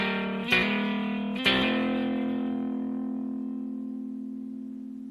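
Two electric guitar chords sound as inversions with the third in the bass, one strummed and then a second a moment later, the second left ringing and slowly decaying, close and clear with no talk.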